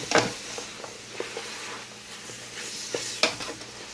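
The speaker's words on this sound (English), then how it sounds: "Go ahead and give it a good stir." Spoon stirring collard greens in a pot, with soft scraping and clinks over a steady sizzle, a few sharper knocks of utensil against the pot, close and without talk.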